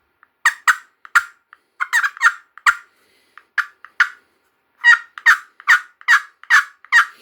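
A scratchbox turkey call makes sharp cutting calls, loud and close, in irregular bursts of quick clucks separated by short pauses, with no voices.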